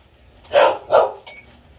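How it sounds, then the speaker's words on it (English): Two loud, close dog barks in quick succession, followed by a fainter third, in a quiet home kitchen. "Got the dogs going."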